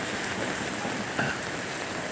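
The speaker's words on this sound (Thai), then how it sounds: "บรรยากาศพี่น้องบรรยากาศฝนตกนะครับ" Steady rain pattering on surfaces outdoors in Thailand, a continuous even hiss with one brief louder splash partway through, and no voices.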